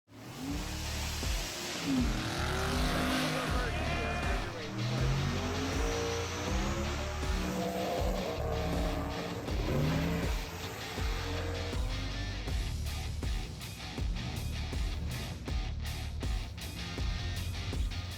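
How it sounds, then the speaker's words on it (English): Race car engine held on a two-step launch limiter with the transbrake engaged, the bump button making it creep forward; a loud, steady stuttering rev runs throughout, close by and alone. "I'll just put it up on two-step, and I'll hit the bump button, and it'll creep."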